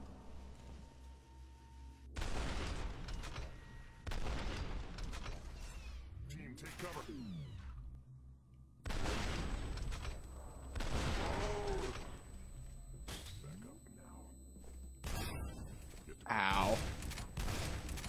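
Gunfire in the video game F.E.A.R.: Perseus Mandate comes as repeated loud bursts of automatic shots, several sustained volleys separated by brief pauses, with game voices and effects in between.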